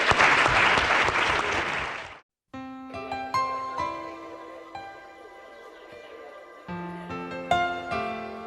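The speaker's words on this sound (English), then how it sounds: "So a little round of applause for these guys and for yourselves." A burst of crowd applause claps loudly for about two seconds, then cuts off as sustained musical tones take over.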